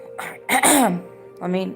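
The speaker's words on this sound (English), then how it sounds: "I need to clear my throat and get some liquid." Someone clears their throat up close, a couple of rough, raspy rasps with a brief pause between them.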